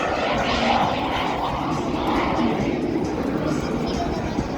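An aerobatic propeller plane performs at the 2023 Cleveland airshow. Its engine drones continuously at a moderate distance, rising and falling slightly as it manoeuvres, while an announcer and crowd murmur talk underneath.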